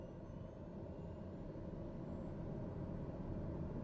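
A TBM 930 turboprop engine powers up for takeoff, a steady deep roar with a dense low rumble heard from the cockpit, continuous and even throughout.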